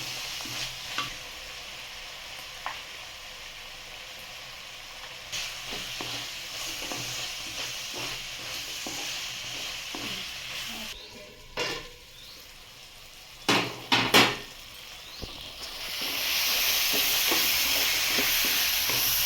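Ridge gourd curry with tomatoes cooking in a pan, a steady soft sizzle with occasional stirring scrapes and clinks, a louder burst of frying hiss rising near the end.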